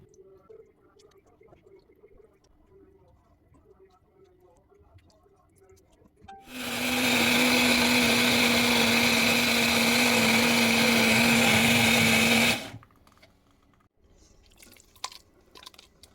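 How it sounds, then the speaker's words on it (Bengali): A kitchen blender whirs steadily for about six seconds, pureeing peeled tomatoes for homemade tomato sauce, starting and stopping abruptly between quieter stretches of faint kitchen noise. "এটা করা হয়ে গেলে পরের কাজটা থাকবে ব্লেন্ড করা"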